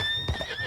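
A short horse whinny from the video game Red Dead Online, with a quick snort and a faint hoof thud, over a steady synthetic backing tone.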